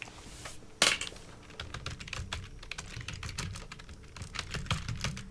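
Rapid, irregular clicking of keys on a computer keyboard, close and clear, with a sharper clack near the start and a continuous patter of keystrokes after it, with no speech.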